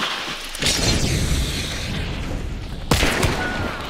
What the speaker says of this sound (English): I got a grenade.